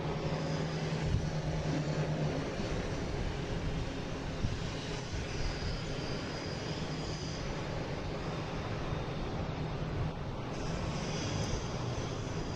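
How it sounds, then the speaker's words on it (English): JetBlue airliner arriving from Aruba, a continuous moderate engine rumble and rushing hiss that stays fairly even, heard alone without talk. "There's that JetBlue from Aruba."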